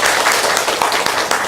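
Audience applause from people attending an Indonesian Safer Internet Day opening event, a dense, steady wash of many hands clapping throughout, loud and continuous.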